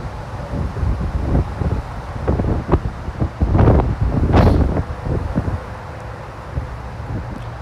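Strong outdoor wind gusts roar and buffet a microphone in a continuous, rough rush that swells into louder bursts, with no voices.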